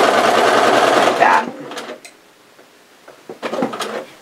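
A sewing machine runs loud and fast for about a second, stitching elastic into a zipper face mask, then stops, followed by soft handling clicks and rustles of the fabric, with no talking.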